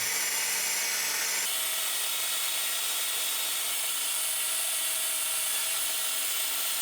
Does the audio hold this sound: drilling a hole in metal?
yes